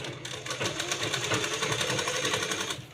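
A sewing machine runs continuously, double-stitching cloth for a small baby cap, with a steady rapid needle rhythm close by and no voices.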